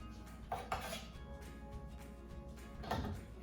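A spoon stirs walnut pieces through a roasted cauliflower mix in a pan, giving faint scraping and a few soft clinks of metal against cookware, quiet and close with no talking.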